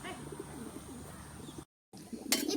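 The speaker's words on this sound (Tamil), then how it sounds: "எங்க தோட்டத்துல இருக்க புறாவை பத்தி பார்க்க போறீங்க." Pigeons coo in a home garden, giving soft repeated low coos that run together close by, broken by a short gap, then a few more coos and a brief scratchy rustle.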